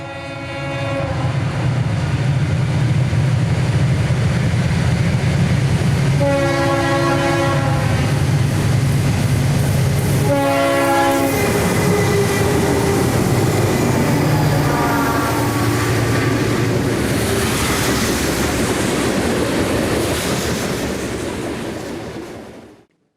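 Conrail westbound freight train led by a C40-8W diesel locomotive in morning fog at Tyrone, Pennsylvania, rumbling loudly and steadily close by, with several blasts of its horn and a rolling clatter of cars.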